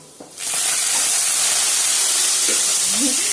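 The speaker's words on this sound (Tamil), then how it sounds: "அந்த முருங்கைக்கீரையை போட்டோடனே என்ன ஆகும்னா அந்த எண்ணெய்லாம் தெரிக்கும்" Drumstick leaves dropped into hot oil with garlic: after a brief quiet moment, a sudden loud hiss of sizzling and splattering oil bursts up and holds steady to the end.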